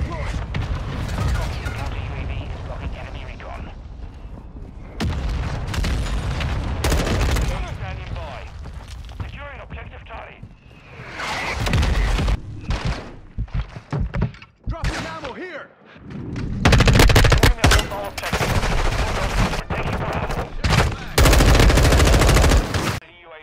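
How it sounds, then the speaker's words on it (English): Loud, dense explosions and gunfire from a Call of Duty MW II match, with mortar strikes landing amid rapid automatic fire and booms. Bursts come in waves across the whole stretch, with game voice callouts mixed in. "Requesting close air. Target marked. Solid copy. Mortar strike on the way."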